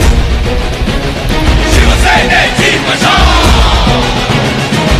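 A large political rally crowd roars and cheers to welcome Aaditya Thackeray, a loud, dense wall of yells and whoops that holds steady and swells throughout.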